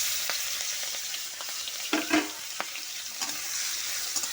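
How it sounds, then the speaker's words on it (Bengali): Shrimp frying in hot oil in a wok, a continuous close sizzle with several sharp scraping and clinking stirring knocks scattered through it. "এবার চিংড়ি মাছটা দিয়ে দিলাম।"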